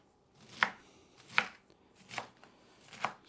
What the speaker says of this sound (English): I'm just gonna finish chopping all the way through and I guess mince it up